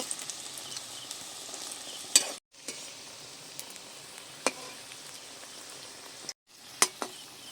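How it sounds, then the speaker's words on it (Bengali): Flour-and-potato snacks deep-frying in oil until reddish, a steady soft sizzle with occasional sharp clicks and two brief silent gaps, no talk. "এইবারে টিফিনগুলো বেশ সুন্দর লোভনীয় দেখাচ্ছে একটু লাল করে ভাজবো"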